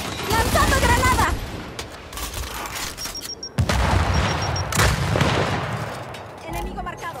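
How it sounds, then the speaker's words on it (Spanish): A Gears 5 firefight crackles with rapid bursts of gunfire and a sharp grenade blast, loud and close, with dense volleys continuing after the explosion and combat voices shouting in between. "¡Lanzando granada!"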